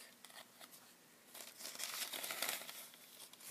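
Parchment paper crinkles and rustles as it is handled for a journal craft, quiet, close crumpling bursts that swell in the middle and then taper off, with no talk.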